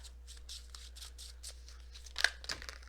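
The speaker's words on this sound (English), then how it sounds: "I'm just kind of giving them a little shuffle here" Tarot cards are shuffled by hand in a quiet room, a series of soft, faint riffling bursts in an even rhythm, then a slightly sharper crisp flick near the end.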